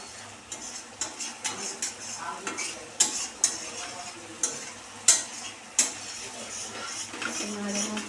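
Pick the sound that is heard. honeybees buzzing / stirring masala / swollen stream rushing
stirring masala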